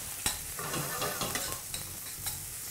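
Food frying in a pan is turned piece by piece, giving a steady close sizzle with a few soft scraping knocks of the utensil as each piece is flipped.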